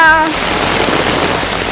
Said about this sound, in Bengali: কি বৃষ্টি বাবারে বাবা